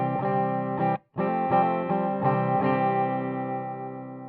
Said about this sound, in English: what you hear right now is just a guitar essentially going straight into the effects